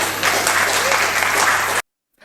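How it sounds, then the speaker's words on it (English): A crowd applauds in a large room, caught by a distant room microphone: dense, steady clapping that runs for nearly two seconds and then cuts off abruptly into silence. "We can hear people clapping."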